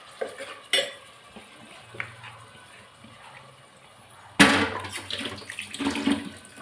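Onions and ground tomato being stirred in oil in a pan, with scattered soft scrapes and clinks and a louder burst of stirring and sizzling toward the end.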